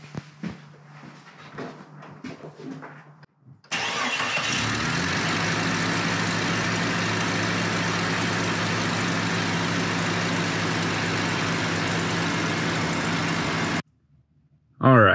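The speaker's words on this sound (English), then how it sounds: "Okay, let's fire it up, see how it goes." A 1999 Jeep Cherokee engine cold-starts on a cold day after fuel injector work, catching abruptly and settling into a steady, loud idle for about ten seconds before shutting off, with faint clatter beforehand.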